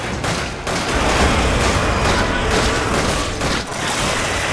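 Sustained gunfire in the co-op video game Resident Evil 5, a loud dense volley of shots that runs almost without a break, with brief dips, and faint voices barely audible underneath.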